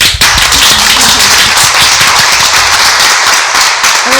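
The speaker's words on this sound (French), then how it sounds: "Les applaudissements sont longs" Crowd at a public event in Amiens clapping loudly and close by, sustained dense applause with sharp individual claps standing out and faint murmurs of talk underneath.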